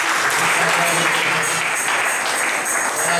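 A church congregation applauds in sustained, dense clapping that fills the whole stretch, loud and steady with a faint murmur of voices beneath.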